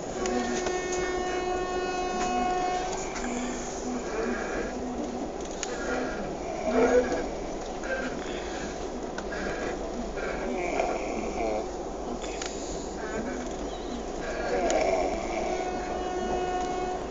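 A Duronto Express train runs through Cuttack Junction without stopping, its steady rumble and wheel clatter continuing throughout at moderate distance, with faint birds and light background voices.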